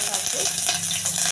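Tempering for rasam crackles in a small pot of hot oil with curry leaves, a loud, close, steady sizzle that cuts off abruptly at the end.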